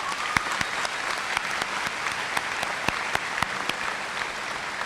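High school graduation crowd applauding the senior class officers, a dense, steady wash of many hands clapping at an even level throughout, with sharper individual claps standing out.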